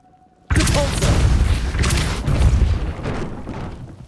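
A spell blast in the Hogwarts Legacy video game bursts in loudly after half a second of near silence, a sustained booming rumble with crackling debris that slowly fades over several seconds.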